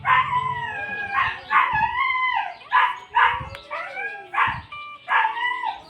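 Dog barking, howling and yipping in excited bursts, with several loud, close vocalizations repeating in quick succession and no talk.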